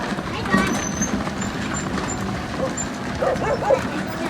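A dog barks a few times in short yips amid background chatter and outdoor noise, with people talking nearby.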